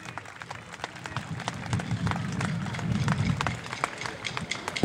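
An outdoor audience at a medieval festival in Erice, Sicily, breaks into scattered clapping that swells to a dense patter in the middle and thins out again, heard from a moderate distance.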